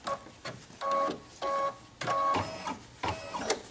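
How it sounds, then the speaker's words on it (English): An embroidery sewing machine stitches fabric down along the sides of a quilted table runner in distinct bursts of rapid whirring, pausing briefly between runs, close and clear with no talking. "Now I'm stitching down the four sides, the four corners."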